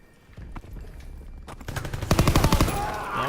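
Rapid machine-gun fire in the World War II shooter Call of Duty WW2, starting with scattered shots and building into loud, dense bursts of automatic fire over the second half.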